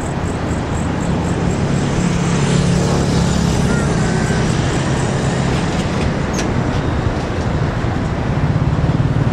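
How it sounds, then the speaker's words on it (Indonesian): A high-speed train rumbles steadily close by as it enters Tegalluar high-speed rail station, with a constant low roar and faint squeals, mixed with strong wind and distant traffic noise. "MU Rail Komodo masuk ke area stasiun kereta cepat Tegaluar."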